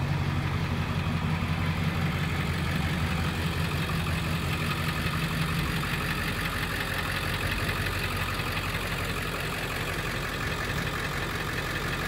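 A Ford F350 dually four-wheel-drive truck with a 7.3 liter Powerstroke diesel idles steadily, a loud continuous low rumble with a knocking clatter, close by and alone throughout.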